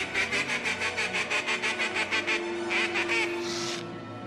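A duck quacks in a fast, steady series of nasal calls, repeated evenly and loudly up close, ending in a slightly drawn-out final quack.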